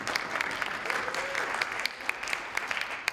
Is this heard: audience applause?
yes